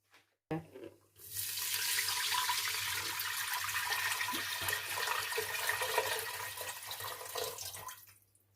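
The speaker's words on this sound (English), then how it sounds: "We need more water. So I have added enough water." Tap water pours steadily into a cooking pan for mutton biryani rice, a continuous close splashing rush lasting several seconds after a brief clatter, with no talking.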